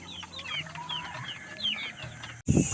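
Chickens of about one to four months old clucking at a poultry farm, several overlapping calls repeating close by, ending with a sudden loud burst of noise.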